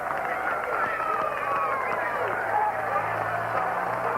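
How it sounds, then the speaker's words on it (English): Large crowd lining the city-centre circuit of the 1984 Birmingham Kellogg's Critérium cycling race, a steady wash of distant cheering and babble with scattered claps, continuous and fairly loud throughout. "he waves to a very, very large crowd here in the city centre"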